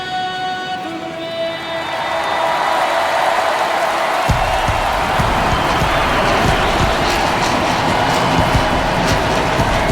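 Crowd in a baseball stadium in MLB The Show 24 swells into a loud, continuous roar of cheering that holds steady for several seconds, with no talk on top.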